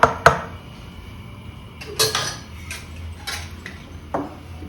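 A spoon clinks against a bowl while boondi batter is mixed smooth for a festival sweet, giving a few sharp taps spread over several seconds, close and fairly loud against a quiet room.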